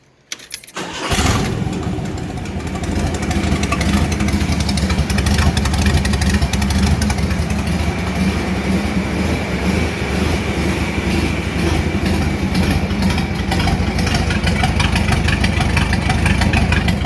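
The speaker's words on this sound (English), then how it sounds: "here's the sound of just the down pipes" The Black Widow truck fitted with down pipes fires up after a brief moment, then settles into a loud, steady, deep idle rumble that continues without a break.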